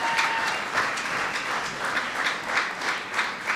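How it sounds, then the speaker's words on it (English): Audience applause at a theatre grand opening, many hands clapping in a steady, moderately distant roar with faint rhythmic peaks and no talking. "Can we give another round of applause to Peter?"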